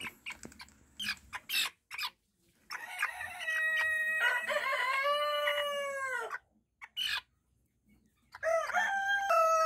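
Backyard chickens being treated for fowl pox, with a rooster crowing loudly and nearby, broken clucks and squawks, and a second crow starting at the end.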